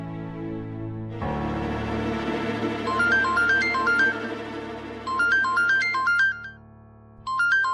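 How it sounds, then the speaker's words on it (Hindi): A phone ringtone plays a bright repeating electronic melody, stopping briefly and starting again, over a low steady hum. "आकृति का फोन।"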